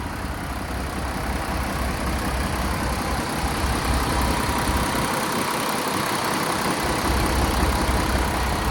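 A Kenworth W990 truck with a PACCAR MX13 diesel rated at 510 hp idles at 700 RPM, a steady, low, rumbling drone heard close and continuous with no talking.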